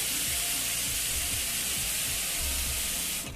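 Food frying with turmeric and cumin powder in a pan, a loud, dense, continuous sizzle and hiss close by, with faint low clatters beneath before it drops off abruptly at the end.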